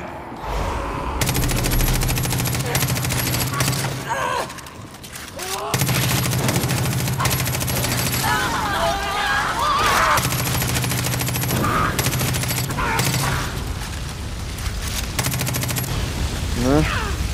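A shotgun fires in loud, rapid, sustained volleys in Far Cry 5's Dead Living Zombies add-on, with heavy repeated blasts across most of the span and a brief lull near the four-second mark.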